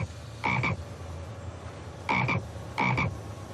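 A frog croaks three times, each a short, raspy double or triple pulse, with a quiet pause before the first call and closer pairs after it, over a low steady background.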